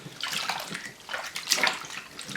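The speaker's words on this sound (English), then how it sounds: "I then put all my liners into the water" Cloth diaper liners being pushed under water treated with Dettol in a basin, giving close, continuous sloshing and splashing in uneven surges, with no talking.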